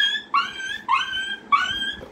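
A boy imitates a dog whimpering after being struck by a stone, three rising nasal yelps in close succession, clear and near with no background talk.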